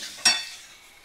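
Ginger-garlic paste and chopped tomatoes with green chilli sauté in a pan, a soft frying hiss with one quick stirring scrape that fades back to a low sizzle.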